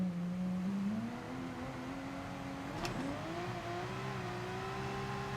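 Race car engine in Gran Turismo Sport on a wet track, a steady droning motor whose pitch climbs and then drops at a quick upshift before rising again, continuous and moderately loud.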